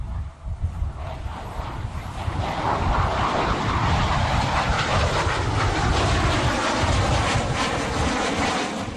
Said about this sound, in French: L'armée de l'air a dépêché son avion Hercule C-130